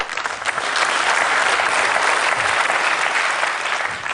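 A television studio audience applauding a guest on a talk show, dense sustained clapping that stays loud and even throughout with no talking over it.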